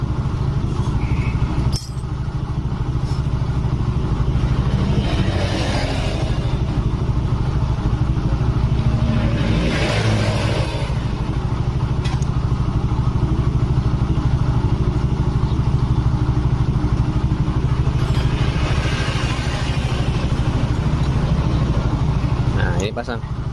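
A motorcycle engine catches with a sharp start and then settles into a steady, loud idle that runs unbroken for over twenty seconds while a person talks nearby.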